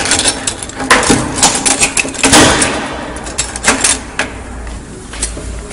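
A door lock at a house is forced open with irregular bursts of close metallic rattling, clicking and clanking, with brief pauses between jolts.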